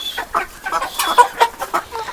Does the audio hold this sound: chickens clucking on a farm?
yes